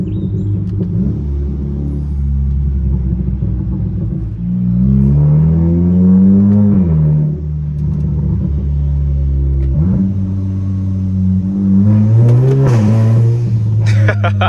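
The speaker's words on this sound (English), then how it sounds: "It gurgles and pops after this new exhaust install." A 2018 Audi A4 with a newly installed exhaust downshifts, the engine rumbling and rising in pitch through revs, then settling into a burbling gurgle with a few pops near the end.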